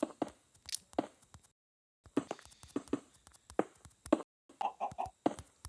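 Short, choppy clucking bursts of a video game chicken with brief pauses between them, close and fairly clear.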